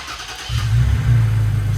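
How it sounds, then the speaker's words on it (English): A third-generation Toyota Tacoma truck engine cranks and catches after a short quiet moment, then settles into a loud, steady, close idle rumble. "Started the truck."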